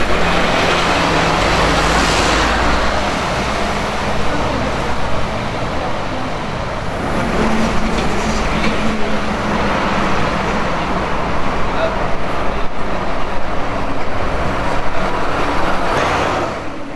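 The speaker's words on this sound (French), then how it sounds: "je ne suis pas gêné par la circulation sur la RN 171" Road traffic on the RN 171 around Blain makes a steady, continuous roar of passing cars and heavier vehicles, loud and unbroken for the whole stretch.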